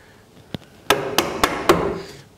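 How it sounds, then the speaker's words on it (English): A chisel struck with a mallet chops out the waist of a wooden portable deck chair part: one light tap, then four sharp, close blows at a steady beat. "Now I'll come back and chisel this waist out"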